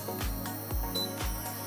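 Electronic beeps from an Empava induction cooktop timer, three evenly spaced short tones about half a second apart, clear and close over a steady background hum.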